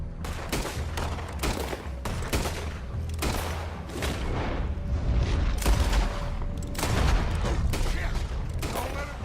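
Repeated gunfire crackles through a Red Dead Redemption 2 shootout: loud, sharp shots come in irregular bursts and volleys, some close and heavy, amid game noise and occasional voices.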